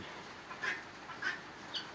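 Tithi chickens on a farm give three short, soft clucks over faint background hiss, spaced about half a second apart.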